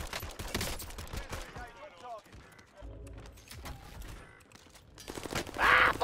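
Video game gunfire in bursts, sharp cracks early and again near the end with a louder burst, mixed with a voice talking in between.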